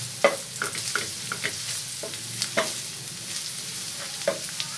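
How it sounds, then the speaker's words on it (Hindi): Garlic paste is stirred into keema frying on a tawa, with a steady sizzle broken by repeated sharp scraping strokes of the spatula at an uneven rhythm. "उसे अच्छे से मिक्स करेंगे।"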